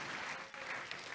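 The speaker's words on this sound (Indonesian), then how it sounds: "berikan tepuk tangan dulu yang meriah untuk Tuhan Yesus" A church congregation applauds during a Sunday sermon, a short burst of fairly faint clapping from many hands that is heard only briefly.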